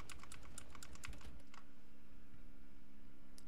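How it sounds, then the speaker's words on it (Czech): Computer keyboard key pressed repeatedly during a horror game, a quick burst of sharp clicks in the first second and a half, then a faint hum and one last click near the end. "Budu klikat Ečko jen tak pro jistotu."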